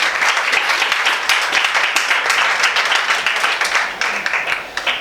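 A church congregation at a morning prophetic service in Côte d'Ivoire applauding loudly and continuously, dense clapping that fills the space for several seconds before tapering slightly.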